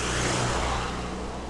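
A car passing by on a street: a broad, close rumble of engine and tyre noise that stays loud and steady, then fades slightly toward the end.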